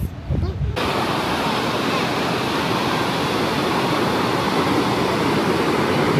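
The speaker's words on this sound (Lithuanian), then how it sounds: "Bangų mūša tai ilga, tai reiškia yra tolygiai ir nestaigiai gilėjantis krantas" Waves break in long, steady surf on a soft sandy beach at Agadir, Morocco, a continuous loud wash of water with wind on the microphone after a brief quieter opening moment.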